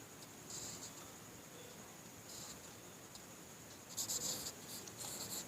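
Chalk or marker scratches faintly on a classroom board in short bursts of strokes, quiet and close, with no talking.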